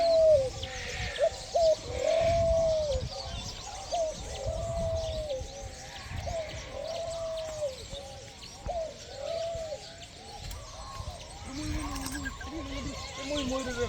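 Pigeons coo repeatedly in soft, rolling calls close by in a wildlife sanctuary, with people talking underneath.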